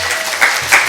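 A church congregation breaks into brief applause, a short burst of many hands clapping together in an indoor worship hall.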